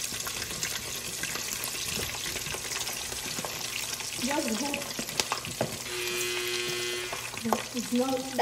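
Meat fries in hot oil for Nigerian ayamase stew, a steady close sizzle with stirring and scraping in a home kitchen. A tap runs briefly, and faint voices and household noise sit under the frying throughout.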